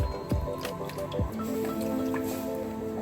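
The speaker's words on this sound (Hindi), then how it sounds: "ये हमने दूध डाला, इसे धीरे धीरे चलाते रहेंगे" Milk goes into a spiced paste in a kadhai for malai kofta gravy and is stirred slowly, with wet drips, squelches and gentle liquid movement up close.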